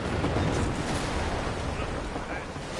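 A dense, rumbling roar of ship cannon broadsides in Assassin's Creed: Black Flag fills the whole stretch, heavy and continuous, with booms blurring together rather than standing apart.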